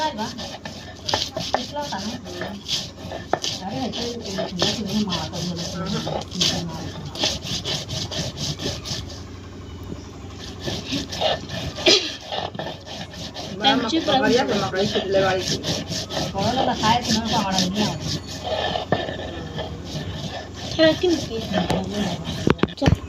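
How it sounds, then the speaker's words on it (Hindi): Garlic, green chili, coriander and salt ground by hand for chutney in a village home kitchen, a steady rough scraping and rubbing that runs on with brief pauses, while someone talks over it. "लहसुन मिर्चा धनिया नमक मैं पीस रही हूँ"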